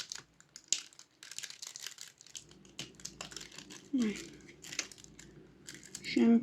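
Paper crinkling, rustling and being cut while wrapping a book, close up with scattered crisp crackles and a louder crumple near the end, under a soft background.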